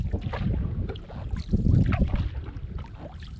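Canoe paddling on a lake in the Temagami wilderness of Ontario, with soft water splashes and strokes under steady wind noise on the microphone, close and moderately loud.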